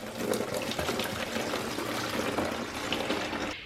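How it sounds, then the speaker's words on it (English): Boiling water dumped from a kettle or pot into a mop bucket with a splash of floor cleaner, a steady, close rushing pour lasting a few seconds with no voices. "then dump in lots of boiling water"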